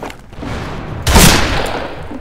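Loud shotgun blast from an online multiplayer shooter game, one sharp close report at about the midpoint that rings out and fades over steady background game noise.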